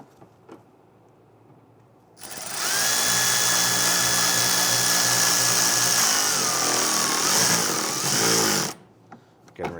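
A power driver runs steadily for about six seconds while tightening a rear bumper screw on a 2011–2019 Ford Explorer, a loud close whine that dips slightly in pitch near the end, with quiet gaps before and after.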